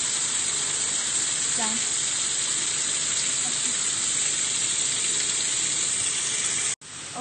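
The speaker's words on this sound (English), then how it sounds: "is opening the vapor valve." Steam hisses loudly and steadily from the opened vapor valve of a bubble cap continuous distillation column. The hiss runs unbroken for several seconds, a brief spoken word comes in partway through, and the sound cuts out abruptly near the end.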